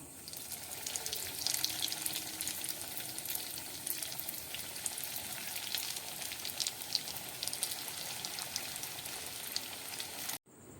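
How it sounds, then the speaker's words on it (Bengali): Continuous sizzle of potato crisps frying in hot oil, a dense crackling hiss held steady for about ten seconds before it cuts off abruptly near the end. "এবার আমরা এগুলোকে আস্তে আস্তে করে সবগুলো ভেজে নেব"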